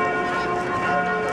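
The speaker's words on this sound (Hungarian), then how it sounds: "Neked a videóra harangoznak?" Church bells ringing at eight in the morning in Paris, a dense, continuous wash of overlapping metallic tones sustained throughout at steady, moderately loud level.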